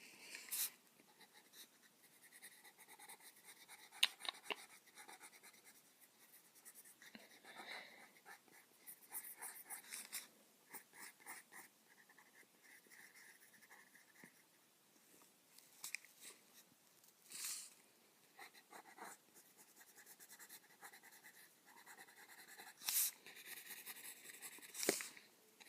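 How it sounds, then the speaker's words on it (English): Pencil scratching on paper while drawing eyes on a human figure, with soft irregular strokes and small taps in uneven bursts, faint and close with quiet gaps between. "We'll draw some eyeballs on this person."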